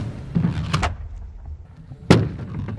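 A single firecracker goes off with a sharp, loud bang near the end, after a couple of softer knocks and thumps in the first second; no voices.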